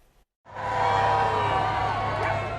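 A large crowd cheers and whoops at a royal visit in Northern Ireland, bursting in after a short silence and holding as a loud, sustained roar with shouts rising above it.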